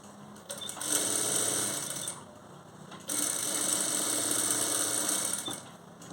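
Sewing machine stitching along the edge of a blouse cross belt, running in two steady bursts with a short pause between, close and fairly loud, no voices.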